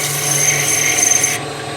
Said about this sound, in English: I'm going to stop, grab my sandpaper,